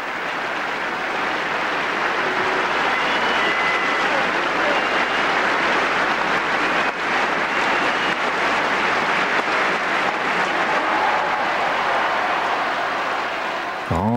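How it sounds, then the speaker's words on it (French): Sustained applause from a packed tennis stadium crowd at Roland Garros, the 1992 French Open, a dense, steady wash of clapping filling the whole stretch at even loudness. "elle s'en va sous les applaudissements d'un stade archi-comble"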